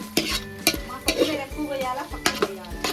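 Chicken dum biryani mixture being stirred in a pot, with regular scraping and clinking strokes of a utensil against the metal over a faint sizzle, close and steady.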